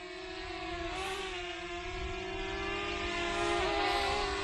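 A DJI Mini 2 drone fitted with a 360 propeller guard flies at full throttle, its high, steady motor whine holding strong tonal bands that rise slightly in pitch and loudness toward the end.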